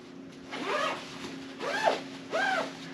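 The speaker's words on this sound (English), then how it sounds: "Zip it down." Zipper on hunting outerwear pulled down in three quick rasping strokes, each a short rising zip, close and clear against a faint steady hum.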